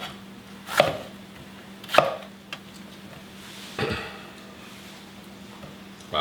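Knife chopping a green pepper for tomato and watermelon gazpacho, with four or five sharp, separate cuts spaced a second or two apart against a quiet background hum.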